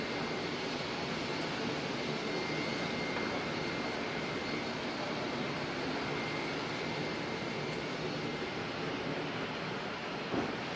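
Qantas flight 143 from Sydney arriving at Auckland Airport, a distant, steady jet roar, faint yet constant and unbroken, with no voices.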